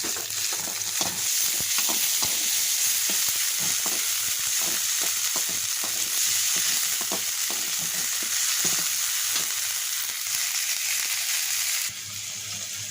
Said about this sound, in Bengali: এখন মাছগুলোকে কষিয়ে নেব